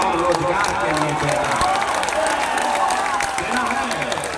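Crowd clapping and cheering at an outdoor Bihar political rally during a Jan Suraaj yatra, dense sustained applause filling the whole stretch with crowd noise underneath.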